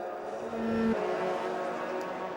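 Porsche GT race cars pass during a 2004 Le Mans Series race, giving a steady, loud engine roar with a brief rising whine as one car goes by, heard from trackside with no speech.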